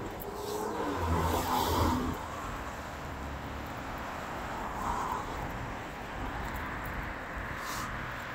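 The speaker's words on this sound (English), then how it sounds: "A lot of traffic." Steady street traffic on a busy day in warm weather, cars rolling past at moderate distance with a louder swell early on, a continuous wash of engine and tire noise and no talking.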